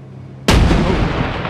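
A single loud grenade blast in Six Days in Fallujah hits suddenly after a quiet moment, then rolls out into a heavy sustained rumble.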